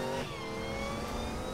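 Race car engine in Need for Speed Most Wanted (2012) revving hard and accelerating, a loud steady roar with rising whine that carries throughout without any talk.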